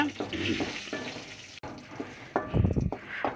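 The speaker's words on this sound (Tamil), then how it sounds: "இந்த மிளகாவை இந்த எண்ணெயிலே வறுத்துக்க போகிறோம்" Dried buttermilk chillies fry in oil for a Tamil pirandai podi, a soft, uneven sizzle with scraping stirs in the pan, growing louder and busier toward the end.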